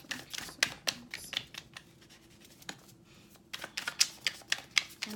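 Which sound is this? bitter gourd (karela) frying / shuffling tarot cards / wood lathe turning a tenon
shuffling tarot cards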